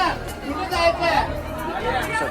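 Dense chatter of a crowd of devotees packed into a temple on Mahashivratri, many overlapping voices forming a steady, close hubbub throughout with no single voice standing out.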